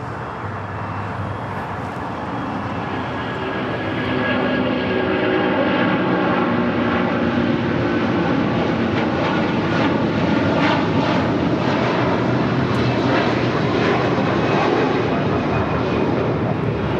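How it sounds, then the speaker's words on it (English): Air Canada Airbus A330 jet airliner bound for Toronto at LAX, a loud continuous engine roar building after a few seconds and holding steady, close and dominant with no talk. "That was Air Canada Flight 788 heading to Toronto in that A330."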